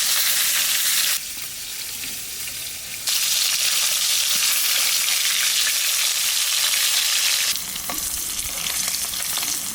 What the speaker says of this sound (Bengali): সিলভার মাছটা যে একটু পাড়া ভাজা দিলাম